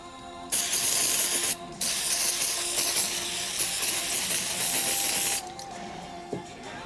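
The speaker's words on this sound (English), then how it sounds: "Might actually use some contact cleaner and spray it." Contact cleaner sprayed onto a circuit board inside a Nakamichi 1000ZXL cassette deck under repair: a short hiss, then a longer steady spray of several seconds, close and fairly loud, with faint mechanical clicks afterward.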